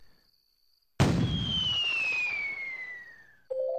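A cannon fires in the Viva Pinata video game: one loud sudden boom following silence, then a long whistling tone that falls slowly in pitch as the blast rumble fades, ending with a short new tone.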